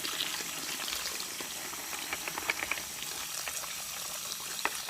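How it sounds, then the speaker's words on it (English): Water runs and splashes steadily into a kitchen sink, a continuous bubbly trickle with small droplet spatters, fairly close and alone. "Pour the water just this way, and the water will come out."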